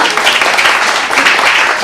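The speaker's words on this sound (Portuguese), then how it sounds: "palmas" Applause from the audience at a fantasy literature panel, a dense, steady wash of many hands clapping throughout, fairly loud and close.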